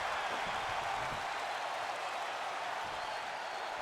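A wrestling crowd at a championship show in Atlanta roars and cheers, a dense, steady wash of many voices and applause that fills the whole stretch without letting up.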